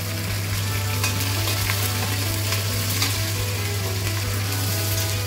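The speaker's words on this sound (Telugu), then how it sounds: "ఓకే, కరివేపాకు, ఉల్లిపాయ ముక్కలు, దీన్ని కొంచెం ఫ్రై చేయమ్మా." Curry leaves and sliced onions fry in hot oil in a pan, a steady dense sizzle with occasional crackles and light stirring scrapes throughout, no voices.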